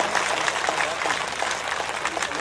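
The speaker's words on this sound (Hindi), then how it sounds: "संतों के स्वागत में ताली में कंजूसी नहीं, दोनों हाथों पर उठा करके संतों का अभिनंदन करें।" A crowd claps to welcome saints onstage at a Bhagavat Katha gathering in Jodhpur, a dense, steady applause that fills the space without a break.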